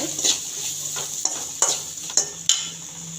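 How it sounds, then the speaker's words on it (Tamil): Vegetables for veg kurma are sautéed in a pan over low heat, with a soft continuous sizzle. A spoon stirs and scrapes against the pan in several distinct, regular strokes, close up, with no talking. "சிம்மில் வச்சு லைட்டாக பச்சை வாசனை போகிற வரைக்கும்"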